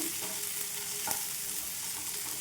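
Green chillies and tomatoes frying over a low flame for gongura chutney, a dense even sizzle held close and steady, with one brief stirring scrape partway through and no voices.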